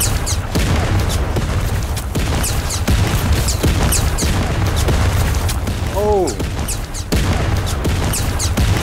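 Airstrike explosions in the VR shooter game Zero Caliber come as a barrage of loud, repeated booms and blasts over a rumbling background, while a player's voice talks over the din.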